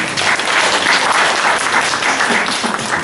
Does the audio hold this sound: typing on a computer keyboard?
no